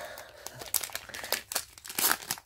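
Thick paper wrapping of a Pokémon card booster pack crinkles and rips in short, close bursts, tearing in several quick pulls.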